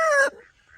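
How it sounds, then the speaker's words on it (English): Pet rooster on a farm giving one short, loud, close call that cuts off abruptly, followed by faint rustling. "This is my rooster."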